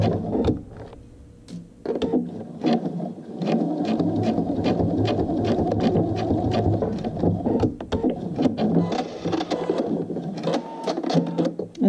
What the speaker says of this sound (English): I'm using a long stitch, just a basting stitch